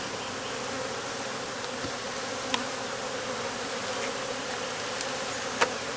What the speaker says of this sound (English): These bees are on me.